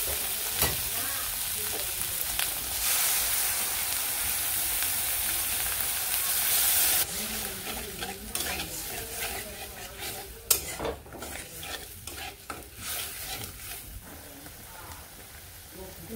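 Onions frying in a pan as sour yogurt goes in, with steady sizzling that changes sharply partway through, followed by stirring scrapes and clinks of a utensil against the pan.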